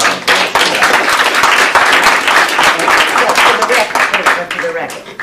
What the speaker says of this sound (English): she deserves a huge round of applause